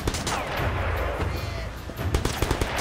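Rapid gunfire in the open-world action game Sleeping Dogs, a busy rattle of shots over a rumbling background, with sharper cracks standing out near the end.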